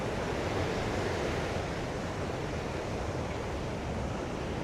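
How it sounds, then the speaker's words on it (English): Ocean waves breaking on a rocky shore near Sunset Point, a steady, loud broadband wash of surf that fills the whole stretch, close by and heard alone without any talk. "Waves."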